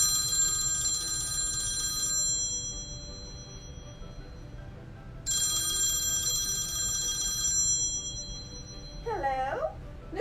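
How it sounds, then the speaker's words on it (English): An old-fashioned telephone bell rings in two loud, sustained bursts separated by a pause, set in a children's farm story, with a short voice answering at the end. "when the phone rang"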